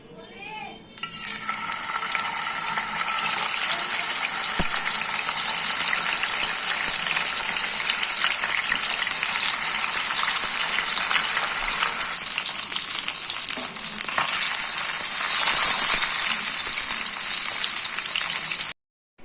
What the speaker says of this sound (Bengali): মাছগুলোকে ভেজে নিয়েছি।